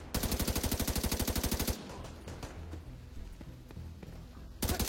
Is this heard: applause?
no